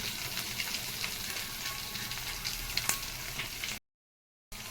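Ivy gourd and egg fry sizzle in a pan with a dense, continuous crackling hiss and faint stirring clicks, which stop abruptly for a brief silence before resuming.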